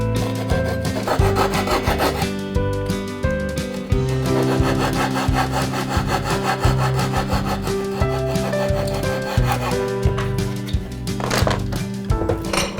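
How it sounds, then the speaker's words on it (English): A hand saw cutting a wood coping joint on the backstroke, steady rhythmic rasping strokes close up and loud, continuing without talk. "It makes it a little bit easier for me anyway to cut on the backstroke."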